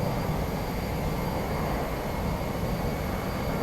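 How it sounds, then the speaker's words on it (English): An airplane on a runway in Microsoft Flight Simulator 2020 gives a steady broadband engine roar, constant and moderately loud throughout, with no voices. "I do hear a plane."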